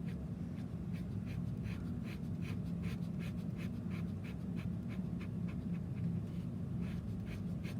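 Pen scratching out quick repeated hatching strokes on paper, a steady rhythmic series of faint scrapes over a low background hum.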